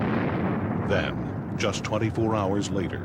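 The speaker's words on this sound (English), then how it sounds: "another explosion rips apart the very same pipeline" A natural gas pipeline explosion roars as a dense, continuous rumbling blast, heard under a narrator's voice that speaks over it throughout.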